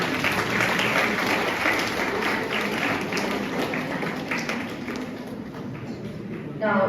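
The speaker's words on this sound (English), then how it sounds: "Give him a big round of applause." Applause from an audience in an institute hall at a training-program inauguration ceremony, steady dense clapping sustained throughout, fairly loud and close, with a few murmured voices underneath.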